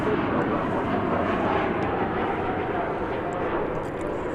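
A jet airliner at DFW Airport roars with a broad, steady rumble and hiss, heard from a distance and filling the whole moment without interruption.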